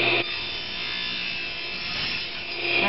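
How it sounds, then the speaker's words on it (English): Abrasive rasping as the angle is trimmed on a carbon fiber spar during reinforcement of a wood dihedral spar for a Durafly model plane, a steady close scraping stroke sustained for about three seconds without talk. "And now we trim the angle on the carbon fiber."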